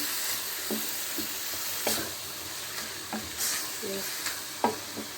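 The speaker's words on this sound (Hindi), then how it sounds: "मैंने कहा बस इसको मैं तेज़ चूल्हे पर भून रही हूँ।" Mixed vegetables including turnip frying on a high flame, with a steady bright sizzle and intermittent scraping and clinking as a spoon stirs them in the pan.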